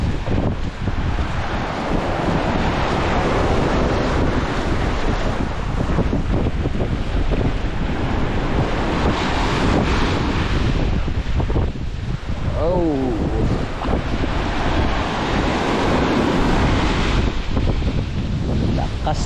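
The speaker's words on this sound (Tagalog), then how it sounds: "Lakas na naman dito sa harap mga bayo." Strong sea waves break at the shore amid heavy wind, a continuous loud roar with gusts buffeting close to the microphone, while voices speak intermittently.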